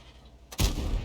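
A single heavy tank gun shot in World of Tanks booms out at long range after quiet game ambience, a sharp blast followed by a sustained rumbling tail.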